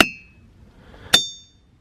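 A hammer strikes rocks on an outdoor rock-hunting trip, giving two sharp metallic clacks about a second apart. Each clack is followed by a short, bright ring that fades quickly, heard close and alone.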